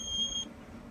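IPS i5 electric unicycle giving a warning beep, a faint high electronic tone lasting under half a second, then quiet.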